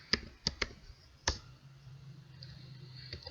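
A few sharp, close clicks of keys pressed on a computer keyboard while typing commands, spaced irregularly over faint background hum.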